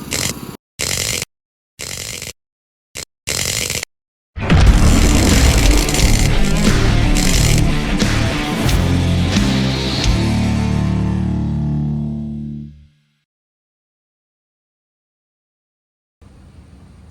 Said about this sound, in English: They're building a house across the street